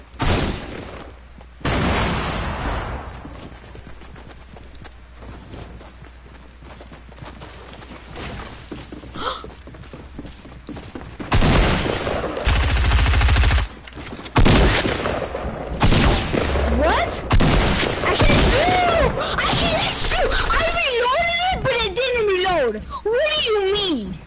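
Video game gunfire in a duo match, bursts of rapid shots and booms that come and go, mixed with loud, agitated talking throughout.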